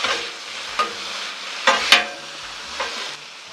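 Green beans sizzle steadily on a hot Blackstone griddle, with a constant hiss of frying broken by a few sharp scrapes and clicks of a spatula stirring them, close and clear with no talking.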